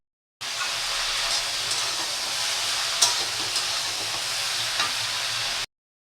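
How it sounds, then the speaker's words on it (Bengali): Chopped ridge gourd (chichinga) seasoned with salt and turmeric fries steadily in a pan, giving an even, continuous sizzle with faint stirring scrapes and no voices. "এবার নেড়ে চেড়ে ভাজতে হবে"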